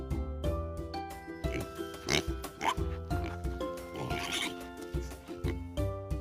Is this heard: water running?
no